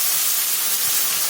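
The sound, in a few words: spice paste sizzling while frying in pan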